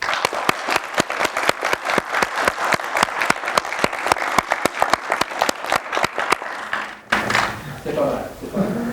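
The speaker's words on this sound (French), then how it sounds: "On va écouter vos applaudissements pour The Grudge" A studio audience claps in a dense, loud burst for The Grudge, applause lasting about seven seconds before dropping off abruptly into cheering and talk.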